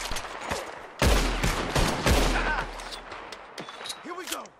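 Gunfire in a Red Dead Redemption 2 shootout: dense, loud rapid volleys of shots with echoing cracks over a continuous battle rumble, with a voice shouting briefly near the end.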